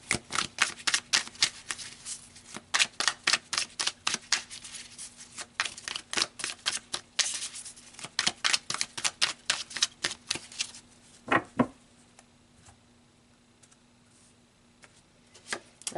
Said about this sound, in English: So let's pull some more cards, Leo.